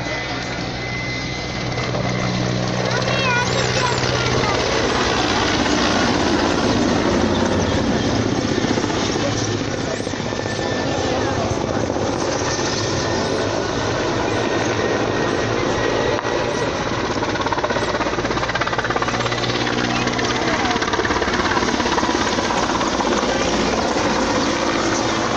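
A Mi-171 helicopter flies a display at the Nitra air show, its loud rotor and turbine roar filling the air continuously and steadily close by for the whole stretch.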